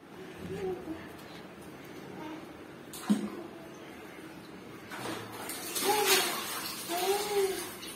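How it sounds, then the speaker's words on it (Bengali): Water sloshes and splashes softly as a small child is bathed in a tub indoors, with intermittent gentle swishing and one sharper knock, while someone talks and a voice is heard. "এখন আমার ছোট্ট পুটলুকে স্নান করাবো।"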